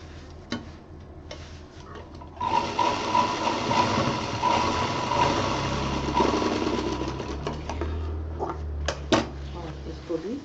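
A sewing machine stitches a kids' round bag, a steady mechanical whirr running for several seconds with clicks before and after, a voice talking over parts of it.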